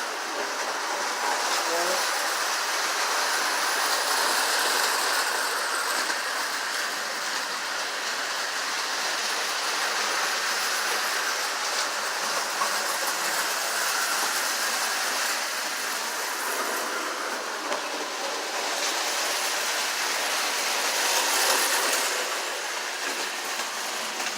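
A small model train runs steadily with a constant rattling, clicking hum, moderately loud and unbroken throughout.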